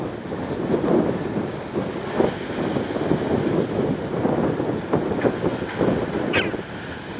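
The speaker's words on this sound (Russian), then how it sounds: "Ветер плотный, с юга." Strong south wind buffets the microphone continuously on a beach on the north side of Sevastopol, a rough rumbling roar with gusty surges, near open water, and no voices.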